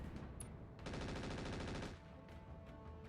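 Weapons fire in the mech strategy game RogueTech, with a loud rapid burst of automatic shots lasting about a second over a constant background rumble and scattered softer thumps.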